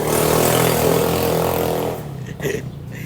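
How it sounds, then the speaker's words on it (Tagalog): A motorcycle engine roars loudly nearby, then fades as it passes, leaving quieter clattering and a brief engine surge afterward. "ang ingay ng mga motor dito sa amin"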